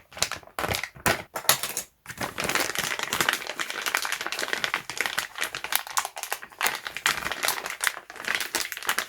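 Packaging from a Tineco S5 vacuum gets unwrapped, producing close, busy crinkling and rustling of plastic and cardboard with brief pauses, rapid and continuous throughout.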